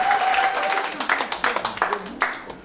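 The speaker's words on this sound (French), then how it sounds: "On acclame très fort." An audience at an official launch event in Paris applauds and cheers loudly, with dense clapping in uneven bursts and voices calling out over it.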